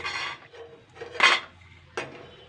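Crisp fried rice-flour pitha shell shapes knocking and crunching against a bowl, in three short separate clattering bursts close by with quiet gaps between.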